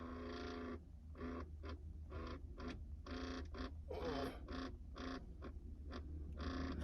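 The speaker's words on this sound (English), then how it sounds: "I've never heard that actuator make that noise before" A climate control actuator in an OBS Chevy truck from 1988 to 1994 with a bad control head makes faint, rapid mechanical chattering in irregular stuttering bursts over a steady low hum.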